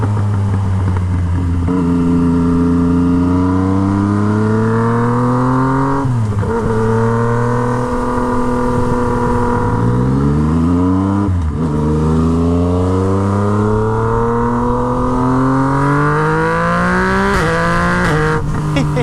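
A Yamaha MT-09 motorcycle with a straight-pipe Toce exhaust roars close and very loud, its engine note climbing and dropping through repeated revs with sharp pops, continuous for the whole stretch with no talk.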